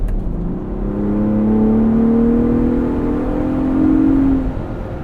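A 2022 Ford Bronco Raptor engine revs loudly while driving, with a rising then sustained drone that swells and falls off near the end, heard up close from the cabin with no talk.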